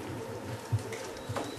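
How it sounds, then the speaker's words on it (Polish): Racing pigeons at a loft in Starogard Gdański during a flight arrival give soft, low cooing that rises briefly twice over a steady, faint background hum. No one speaks. "pojawił się kolejny gołąb"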